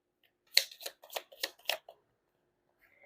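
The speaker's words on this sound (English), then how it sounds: "So let's try to pull up the tea leaf fortune cards." Tea leaf fortune cards are handled in a close, quiet series of crisp papery snaps and riffles, about six quick bursts over a second and a half, followed by near silence.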